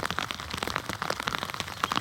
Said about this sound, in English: It's raining now, so I don't know how good this video is going to take.